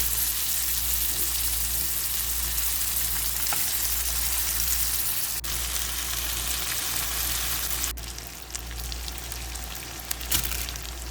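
About a kilo of raw skinless chicken sizzles and fries loudly in a pot for paprika chicken curry, a steady dense crackle throughout with occasional stirring clicks and no talking.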